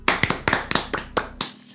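A few sharp hand claps ring out close by in a quick irregular burst, about eight or nine in under two seconds, with no talking over them.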